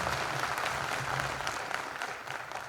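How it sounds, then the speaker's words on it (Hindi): Steady applause from a seated audience at a patriotic public address in India, a dense and fairly soft wash of clapping throughout with no speech. "एक बार जोरदार तालियां इस ताजे स्वर के लिए, नए स्वर के लिए आपकी"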